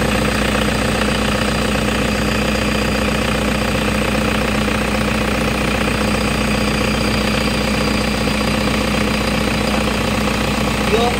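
Toyota HiAce GL engine idling with the air-conditioning on, compressor and drive belt turning: a steady low rumbling drone with a faint whirring, running continuously at close range, while someone talks over it.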